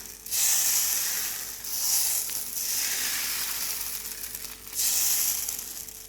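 Dosa batter sizzles loudly on a hot pan, coming in repeated bursts of bright hissing as the batter is poured and spread, with short quieter gaps between them.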